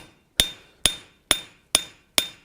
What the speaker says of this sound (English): A small hammer like this is actually much better suited to this task.